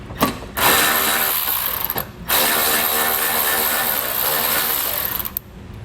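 A power tool whirs in loud bursts while backing T25 screws out of the heat shield under a 2022 Audi Q8, with two brief pauses between the runs of ratcheting mechanical spinning.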